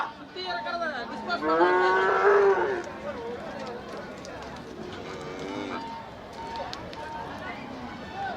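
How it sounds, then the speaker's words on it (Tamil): Umblachery cattle, a rare native breed from the Thanjavur area, moo at the Manapparai cattle market amid crowd noise and talking voices, with one loud drawn-out call standing out from the background bustle. "இந்த மாடு இது ஒரு நாட்டு மாடு தான்"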